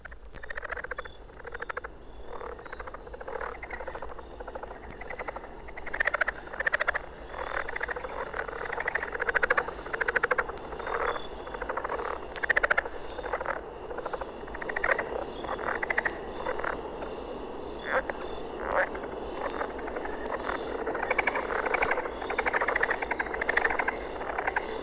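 Several different Florida frog species call together in a dense night chorus recorded in 1978, a steady wall of overlapping trills and pulsing croaks with insects buzzing among them.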